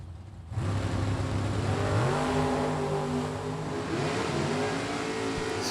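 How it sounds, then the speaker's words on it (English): An Oldsmobile and a Pontiac launch side by side at a Super Pro drag race, engines roaring and revving hard as they pull away, loud and close with a rising, shifting engine drone. "Roy's Oldsmobile down 530. Steve's Pontiac down 573."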